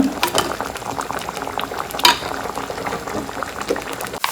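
A Kerala-style fish curry boils in a pot, giving a close, uneven bubbling and popping. A faint utensil clink sounds partway through.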